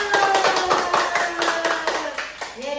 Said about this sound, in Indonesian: Kita kasih tepuk tangan buat Tuhan Yesus.